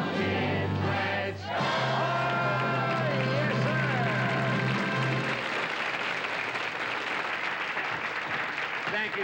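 A studio audience at a children's TV puppet show cheers and claps. Excited voices and crowd noise at first give way to a dense, steady wash of applause lasting several seconds.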